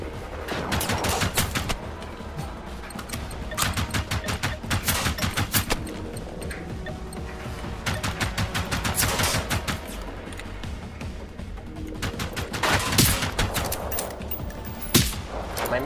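Rapid bursts of gunfire from a firefight in the video game Generation Zero, loud and sustained with dense clusters of shots and brief gaps between volleys.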